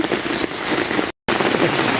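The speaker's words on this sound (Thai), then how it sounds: "ฝนตกครับ อากาศฝนตกวันนี้" Steady rain falls outdoors in a forest on a rainy day, a dense close hiss of drops on surfaces, broken by a brief dropout of silence midway.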